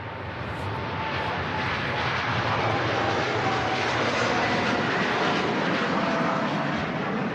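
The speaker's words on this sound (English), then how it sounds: "787-10 Dreamliner heading off to Abu Dhabi" A Boeing 787-10 Dreamliner departs Manchester Airport for Abu Dhabi, its jet engines a loud, broad, steady roar that swells slightly as it passes.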